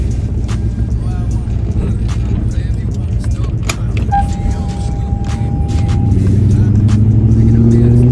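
A Toyota Soarer / Lexus SC400 driving on new wheels during a brake test, with a steady engine and road drone from inside the car, rising slightly toward the end, and a faint brief tone partway through.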